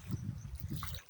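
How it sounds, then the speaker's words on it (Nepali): Floodwater flows steadily across flooded ground, a close, continuous low rushing and gurgling churn with no voices over it. "हेर त कस्तो छ पानी, डुबान सब"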